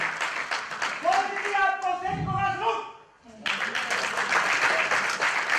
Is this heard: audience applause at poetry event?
yes